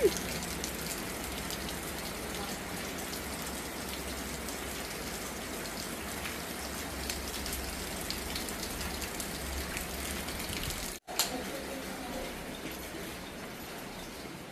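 Steady rain pours down without a break at a family resort in La Union, Philippines, a dense broadband hiss of drops on surfaces that stays loud and even, with a brief dropout near the end.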